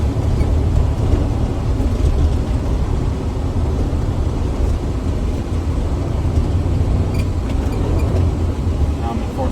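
A semi truck with an Eaton Fuller 10-speed transmission drives along with a steady, loud low engine rumble and road noise that stay constant throughout.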